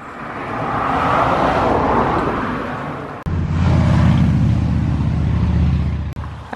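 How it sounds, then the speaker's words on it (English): Steady road traffic with vehicles rushing past nearby on a road by Rosemarkie Fairy Glen on the Black Isle, a continuous broadband roar that swells and fades, with a sharp break midway as another car passes close. "the road passes right by, so it's gonna be a lot of car sounds"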